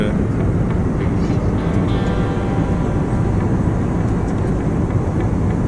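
Steady broadband cabin roar inside a passenger airplane in flight, on a domestic trip from Lucknow to Chennai, a constant low drone filling the whole clip with no clear talk.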